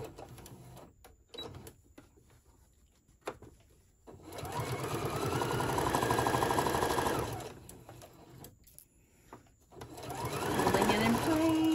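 A sewing machine stitches fabric for a bowl koozie in two steady whirring bursts lasting a few seconds each, with short pauses and handling noises between them, close and clear with a voice talking intermittently.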